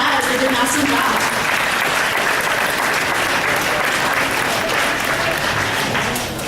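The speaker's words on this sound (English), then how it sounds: "Yes, give them another round of applause" An audience gives sixth graders a sustained round of applause, a broad, even wash of many hands clapping at steady loudness that tapers slightly at the very end.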